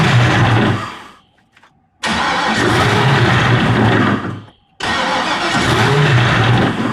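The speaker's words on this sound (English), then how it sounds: "Now we're gonna fire it up." A V8 turbo ski boat engine cranks and catches twice, each time settling into a loud, rough, throbbing idle for a couple of seconds before cutting out briefly, close by and without talking.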